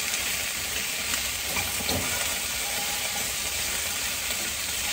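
Protein sizzles and fries in a pan with garlic and herb seasoning while being stirred, giving a steady, close, loud hiss with occasional scraping stirs and no talk.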